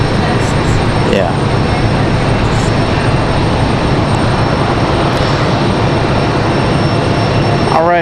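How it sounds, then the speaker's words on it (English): An executive jet on final approach at Raleigh-Durham International Airport, a loud continuous engine rumble and whine held steadily across the whole stretch, with brief chirps and a sweeping tone near the end. "We've got an exec jet here on final"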